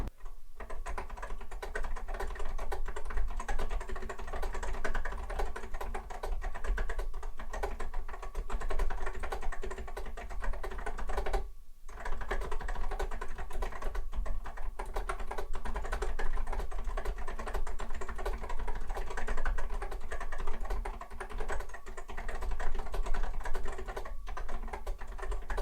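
Steady, rapid typing on a vintage Macintosh Plus keyboard during a typing test, with dense clacking keystrokes running nearly unbroken and close, pausing only briefly once.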